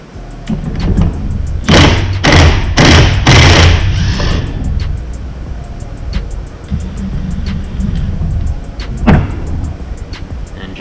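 A flywheel puller being tightened on a Honda 400EX-type ATV engine, heard as a burst of several loud, fast rasping ratchet or impact bursts early on, then quieter scattered clicks and one sharp hit later.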